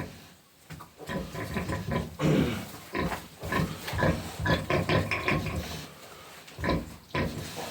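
A sow grunts repeatedly after farrowing, with piglets nearby on the farm; close, loud, irregular snorts and grunts fill the whole stretch, with faint pig noises between bursts.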